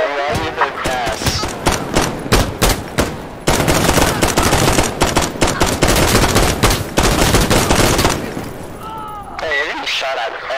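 Loud, close gunfire in the game Insurgency: Sandstorm, with rapid automatic bursts and dense volleys cracking in quick succession before easing off into a brief lull with a voice near the end.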